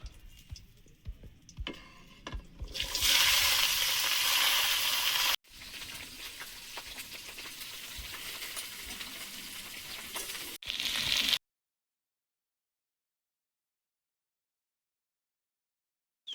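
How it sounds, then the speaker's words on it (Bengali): Potatoes frying in a wok, a close sizzle that starts abruptly, runs for several seconds with a brief break, then cuts to silence for the final stretch. "আলু ভাজাটা বসিয়ে দেব।"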